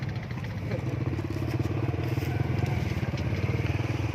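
A motorcycle engine drones steadily nearby throughout, with a continuous low rumble and some clatter, on a rural road where people are arriving for a communal meal.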